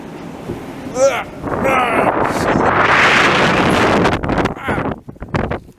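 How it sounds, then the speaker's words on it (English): Strong wind roars and buffets steadily in Verdun, Montreal, muffled as if heard through closed doors, with brief voiced sounds at the start and end. "And it's still windy. You can hear it through the doors. That's a lot of wind."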